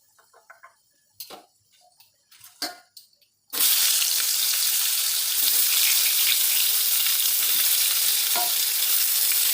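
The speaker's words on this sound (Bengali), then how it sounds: "বেগুনগুলো লাল লাল করেই ভেজে নেবো।" Eggplant pieces fry in oil until reddish-brown. A few scattered clicks and taps come first, then a loud, dense, steady sizzle starts abruptly and keeps going close by, with no talking.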